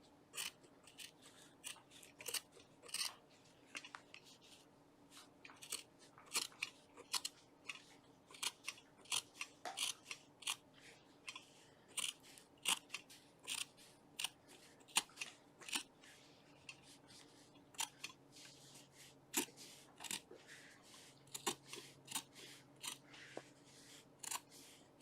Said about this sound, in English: I'm then going to simply just cut my towel